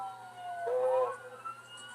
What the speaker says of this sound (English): they have multiple officers following, sirens blaring, and the truck doesn't stop